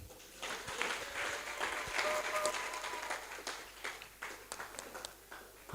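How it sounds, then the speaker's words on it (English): A seminar audience gives a warm round of clapping for a long-serving choir conductor, a steady, fairly distant patter of many hands with a faint voice briefly audible underneath. "Let's give Canon a better clap."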